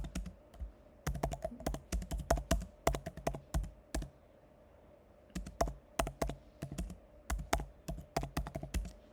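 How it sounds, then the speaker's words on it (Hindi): Keystrokes on a laptop keyboard come in quick clattering bursts of clicks separated by short pauses. The typing is close and fairly quiet, with no talking. "आंसर टाइप कर दीजिए"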